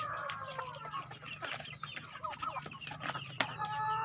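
Free-range village chickens cluck and squawk in short, irregular calls close by, several birds overlapping against a quiet outdoor background with a faint low hum.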